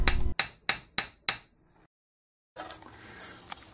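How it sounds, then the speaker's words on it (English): A hammer strikes 1/16 inch bronze filler rod on an anvil five times in a steady rhythm, each blow a sharp metallic ring. A pause follows, then faint rustling handling noise. "It begins by flattening 1/16 inch diameter filler rod on an anvil with a hammer."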